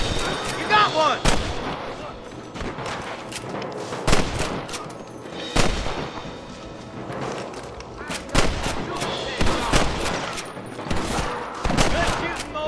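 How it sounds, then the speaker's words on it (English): Gunfire in the video game Red Dead Redemption: dense volleys of rifle and pistol shots crack in rapid, irregular bursts throughout, loud and close, with a few voices mixed in. "Good shooting, boy."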